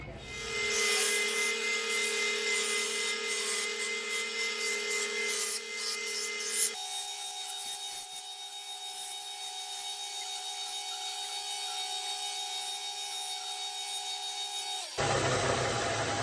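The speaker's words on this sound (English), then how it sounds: "We'll sand off some parts, round off some parts, and finish off some parts." Power sanding and rounding the edges of a handmade holster for a RIA-USA 5.0E pistol: a steady, close motor whine with gritty rubbing that drops in pitch partway through, then stops near the end.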